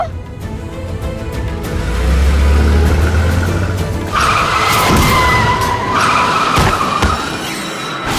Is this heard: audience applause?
no